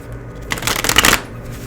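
A deck of tarot cards is shuffled once, close and loud, making a quick riffling burst of about half a second between quiet moments.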